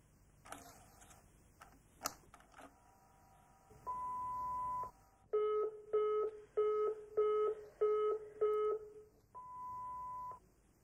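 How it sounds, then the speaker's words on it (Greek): Answering-machine beeps on a home phone: a few clicks, then a long tone, a run of six short repeated beeps and a final sustained tone, clear and electronic in a quiet room. "Δεν μιλάει και κανείς, όλο τούτ και τούτ είναι"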